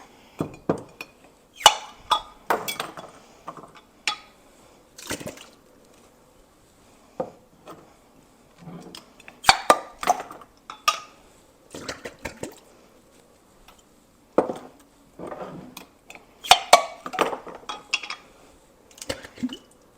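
Intermittent scraping, clicking and clinking as lids are pried off home-canned food jars in a kitchen, irregular bursts of close metal-on-glass noise separated by quiet pauses.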